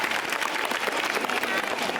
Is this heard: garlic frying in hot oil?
no